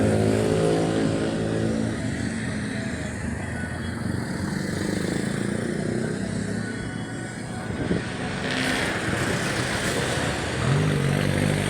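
Busy road traffic with many vehicles passing close by at an intersection, a continuous loud engine rumble with revving and swells as individual cars and motorcycles go past.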